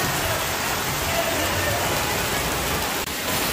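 Steady rain falls in the mountains, a dense, continuous hiss of drops on surfaces that stays loud and even throughout, with no clear speech.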